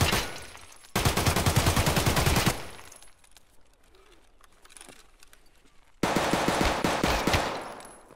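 AK rifle in a video game raid firing long, loud, rapid automatic bursts, two sustained strings separated by a quieter gap of faint ambient noise.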